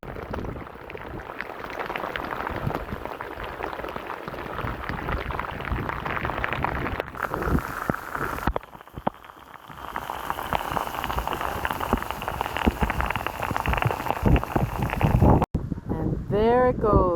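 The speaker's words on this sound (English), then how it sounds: "The fact that winter just came in the form of a rainstorm is going to make it a bit of a challenge." A rainstorm lashing the Irish coast, with a steady, loud roar of rain and wind and gusts buffeting the microphone, easing briefly partway through before surging back.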